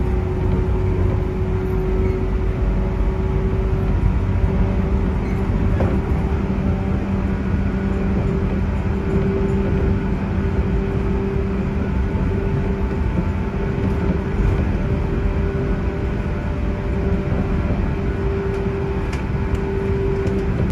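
A local train on Japan's Sanyo Main Line runs at about 100 km/h, giving a steady, loud rolling rumble with a sustained motor whine that holds throughout, without any pauses.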